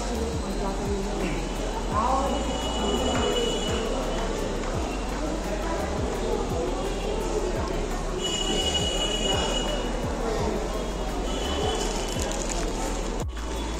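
A metro train at Howrah Maidan station in Kolkata rumbles along with high, piercing wheel squeals rising at intervals, loud and close, over continuous low mechanical noise.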